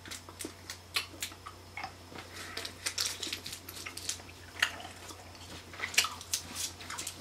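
Close-up wet chewing of Canadian candy, soft irregular smacking and squishing clicks in quick succession, quiet and intimate with no talk.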